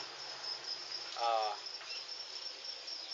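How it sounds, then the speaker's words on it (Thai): Crickets raised by a farmer as a side occupation in a farm full of nesting containers give a steady, soft high trilling throughout. One nearer insect chirps louder for a moment midway. "เราจะมาดูการเลี้ยงจิ้งหรีดของเกษตรกรนะครับ"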